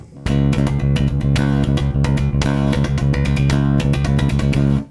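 Fast thrash riff on bass guitar played with three-finger picking, loud and distorted, a rapid driving stream of plucked notes with sharp rhythmic accents, played alone without talk.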